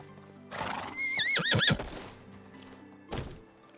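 A horse in Medieval Dynasty lets out a loud, close, quavering neigh with a snort, followed by a single heavy thud of a hoof or body, with no talk.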